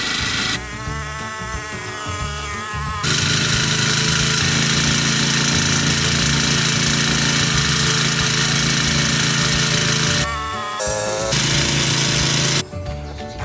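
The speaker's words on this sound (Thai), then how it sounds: "ไปเตรียมพร้อมกันไปทดสอบเครื่องตัดหญ้า" A small two-stroke Honda GX31 brush cutter engine runs loudly and steadily, its pitch climbing as it revs up, with brief dips in between.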